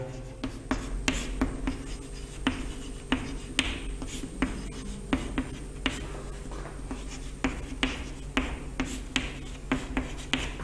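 Steady, rhythmic strokes of writing on a classroom board sound close and clear for the whole stretch, each stroke a short scratchy tap in an otherwise quiet room.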